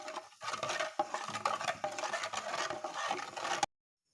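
A metal ladle stirs rasam ingredients with turmeric powder in a pot, giving soft, irregular scraping and clinking close by, quiet with no talk, then stopping abruptly.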